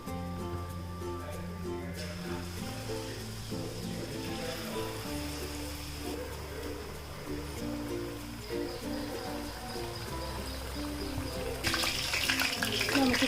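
Batter-dipped potato pieces for Potato 65 fry in hot oil with a soft, continuous hiss under steady background music, the bubbling growing brighter and louder near the end.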